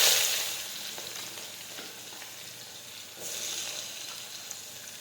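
Mustard seeds, cumin, asafoetida and chopped onions sizzle in hot oil for a vegetable curry, a loud burst of crackling frying at first that settles into a steady hiss, then swells again as more goes into the pan.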